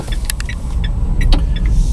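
A Peugeot iOn electric car pulls away onto a fast road, heard from inside the cabin as a loud, steady low road rumble with faint high whines and light ticks from the car.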